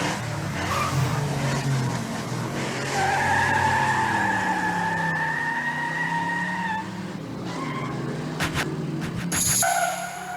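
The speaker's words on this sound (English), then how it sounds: "So what I just went and grabbed these car effects." Car sound effects with tire skids and whooshes, layered with scratch effects and transitions as a beat intro, loud and continuous with rising and falling tonal sweeps and sharp bursts near the end.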